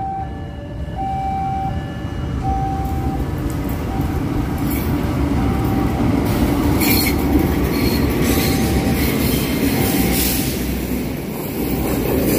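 The Argo Parahyangan passenger train in Indonesia rumbles along the rails nearby, loud and continuous, with wheel squeals and a brief horn-like tone over the steady roar.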